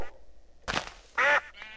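A few nasal duck quacks from a video game sound close and clear, separated by short pauses, with a final loud, honking quack.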